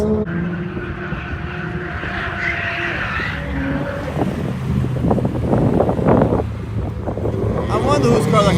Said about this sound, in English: It is so windy outside right now, but the wind is like hitting my face.